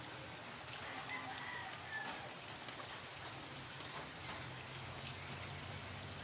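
Steady rain falls during flooding, a soft continuous hiss with faint patter, distant and even, with no speech.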